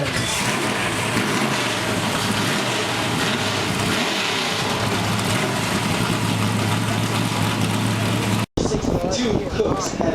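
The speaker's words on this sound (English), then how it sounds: "drivers, start your engines" Several Chevy Impala race cars idle together at Charlotte Motor Speedway, a dense, steady, loud engine rumble that runs unbroken, cuts out for an instant near the end, then resumes.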